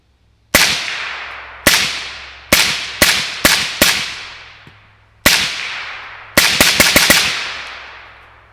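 Suppressed gunshots from a 5.45 AK rifle fitted with an Anechoic 5.56 suppressor, a dozen sharp loud cracks fired in irregular groups with brief decaying echoes, close to the listener and without talk.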